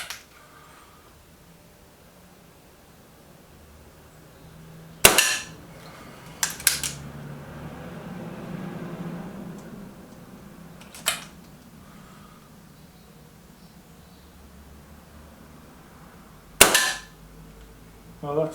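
A Stoeger XM1 .22 air rifle loaded with Air Arms pellets fires four sharp, close shots several seconds apart, each a crisp crack, with faint handling clicks and a quiet, low hum in between.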